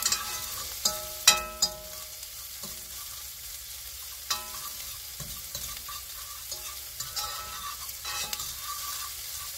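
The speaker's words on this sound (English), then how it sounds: "we'll get these onions going here." Onions for Scotch pies fry in a pan, a light sizzle under repeated stirring and scraping knocks of a utensil against the pan, several sharper clacks early on, then softer irregular stirring throughout.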